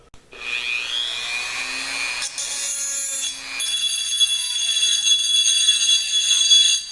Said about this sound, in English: So I had to grind that out with a Dremel tool.